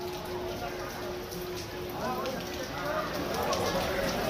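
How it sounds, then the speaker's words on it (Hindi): Heavy rain in Uttarkashi, Uttarakhand, a steady dense hiss of downpour on surfaces, loud and continuous, with a person talking underneath. "उत्तराखंड में इस समय भारी बारिश।"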